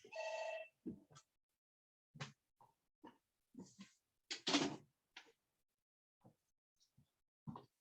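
A telephone rings once at the start during a seminar on the shipping and logistics industry, a short bright electronic trill, followed by scattered soft knocks and muffled handling noises.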